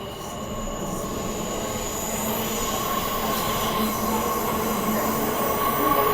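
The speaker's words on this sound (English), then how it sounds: "We leave at the same time with the Mandarin train on the outside." A passenger train departs a station on the Perth line between Kenwick and Whitfords, rumbling steadily with a continuous mechanical roar and high metallic wheel squeal, close and fairly loud, no voices.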